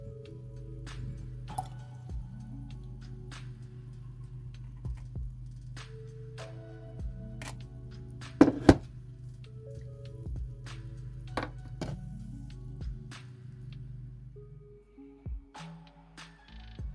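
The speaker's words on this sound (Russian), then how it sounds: "Поливаю немного, полбанки воды через ситечко," Banana infusion water trickles through a small strainer onto potted tomato, cucumber and onion seedlings indoors, a quiet run of irregular drips and soft splashes with a few louder spatters midway, no talk.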